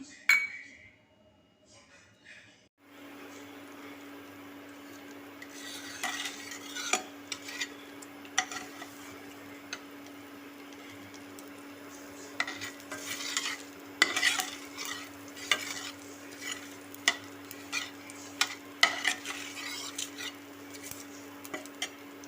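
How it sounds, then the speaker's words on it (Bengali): A bay leaf, ajwain and cumin fry in leftover fish oil in a pan for a Bengali rohu fish curry, a faint steady sizzle under a low hum, with scattered clinks and stirring scrapes. "মাছের তেলে ভাজায় ওই তেলেই আমি একটা তেজপাতা দিলাম আর একটু আজওয়াইন আর একটু জিরে আমি অ্যাড করলাম"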